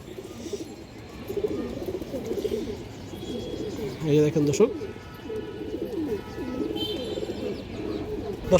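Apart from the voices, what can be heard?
pigeon cooing, silver bagha female pigeon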